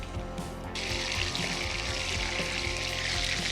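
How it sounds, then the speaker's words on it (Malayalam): Soya chunks fry in hot oil with a close, continuous sizzle and crackle that swells slightly after the first moment, with no talking. "സോയ മൂത്ത് തുടങ്ങി."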